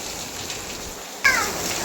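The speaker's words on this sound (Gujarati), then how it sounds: "એકદમ મસ્ત વરસાદ પડી રહ્યો છે" Steady rain pours over a home's rooftop terrace, a broad even hiss that holds throughout at moderate level, with a brief sharper sound cutting in near the end.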